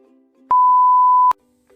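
A single loud, steady censor beep lasts under a second, cutting in and out abruptly over faint low background sound.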